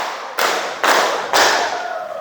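A classroom of pupils clapping in unison, three sharp, loud, evenly spaced claps each followed by a brief decay, with the count not matching five.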